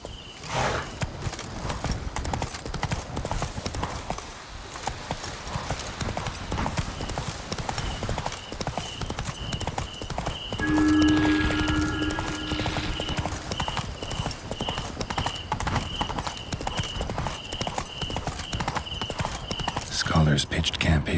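Horse hooves clip-clop steadily at a riding pace in The Witcher 3: Blood and Wine, with occasional whinnies and game ambience around them throughout.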